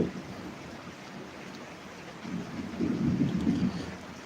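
Heavy rain hisses steadily while low thunder rumbles, building louder toward the end and then easing off, with no voices.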